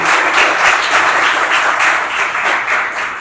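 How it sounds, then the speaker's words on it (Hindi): A crowd at a student results celebration claps loudly and continuously, a thick, even wash of applause close by with no pause for its whole length. "तो इनके लिए भी तालियां बनती हैं"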